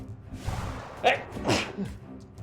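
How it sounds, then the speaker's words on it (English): A forceful human sneeze in two sharp bursts, heard close over a steady low hum of game music during a play session. "Good powerful sneeze that."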